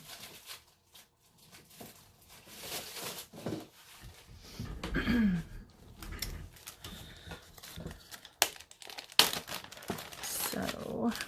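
Designer series paper being handled at a stamping craft table, with intermittent close crinkling, rustling and sliding of sheets in uneven bursts and a few sharp taps.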